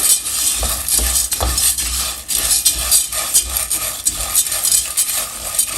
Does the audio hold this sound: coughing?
no